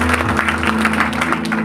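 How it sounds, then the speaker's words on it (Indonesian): A church congregation claps enthusiastically at the close of a sermon, loud and continuous, with a steady low sustained tone beneath. "Sekali lagi berikan tepuk tangan yang paling meriah buat Tuhan."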